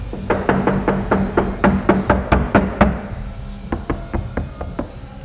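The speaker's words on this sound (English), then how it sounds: "it sounds like you're knocking on wood" Dull, muted knocks on a sound-deadened Porsche 911 door panel, a quick run of about a dozen, a short pause, then a slower handful of taps. Close and fairly loud.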